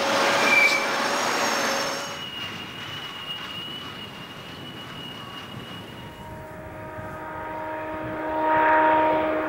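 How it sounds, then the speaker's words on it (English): A Tehachapi freight train with a five-unit helper locomotive set rumbles past at a tunnel, with long squealing wheel tones and a sustained engine drone, fading and swelling at a moderate distance. "A helper set of 5 units are doing their fair share of the work as they duck into Tunnel 9"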